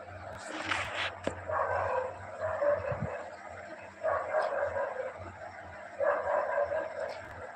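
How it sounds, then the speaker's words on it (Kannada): A dog barks in repeated bursts at moderate distance over steady background noise, heard during a live Tulu and Kannada vlog with music playing nearby. "ನಾಯಿ ಕೊರತೊಂದು"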